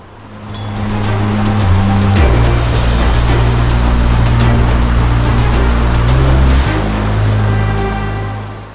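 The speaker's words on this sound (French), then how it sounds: "Fil conducteur de notre rando sera ce torrent qui est le Gave de Pau" The Gave de Pau mountain torrent rushes below the cirque de Gavarnie as a loud, broadband roar of fast water, steady and close throughout, with a low droning hum underneath.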